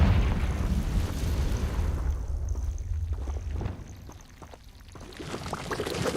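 Confringo fire spell in Hogwarts Legacy, a burst of explosive, rushing noise that crackles and fades, then a softer whooshing swell returns near the end.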